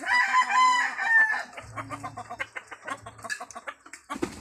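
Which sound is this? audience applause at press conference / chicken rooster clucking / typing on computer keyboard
chicken rooster clucking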